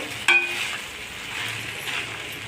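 Cumin rice being stir-fried in a pan with oil or ghee, giving a steady soft sizzle with a single sharp clink of a utensil near the start, close and moderately quiet with no talking.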